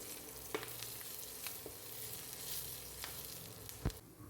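Masala for an anchovy fry sizzling in a pan with curry leaves added, a steady hiss of oil broken by a few sharp crackles and pops, close and alone.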